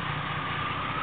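A 1990 Jeep Cherokee Sport's 4.0-liter engine running at a steady idle, a continuous low, even hum that holds unchanged for about a second.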